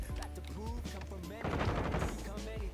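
Rapid video-game gunfire rattles in dense automatic bursts, loudest in the second half, with someone talking over the shooting.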